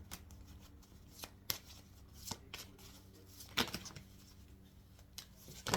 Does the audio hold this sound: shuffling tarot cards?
yes